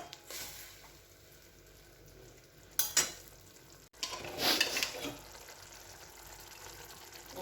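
Spiced masala frying in a pan with water added, a soft steady sizzle under two louder bursts of stirring and splashing near the middle.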